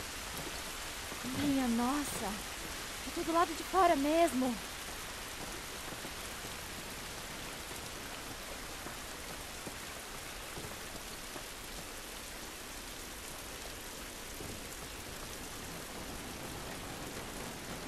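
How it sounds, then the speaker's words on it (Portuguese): Steady rain falls in a constant hiss on surfaces in The Last of Us Remastered, with a few short spoken exclamations near the start, then only the rain. "Essa chuva não vai nos ajudar."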